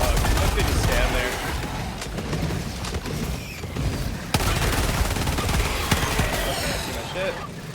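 Sustained gunfire from the video game Helldivers 2, dense bursts of automatic and heavy shots layered with explosions, loud throughout with a few sharper blasts standing out.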